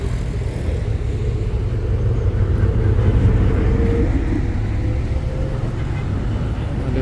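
A bus passes on a road, a constant loud low rumble of engine and tyres close by, with faint voices in the background.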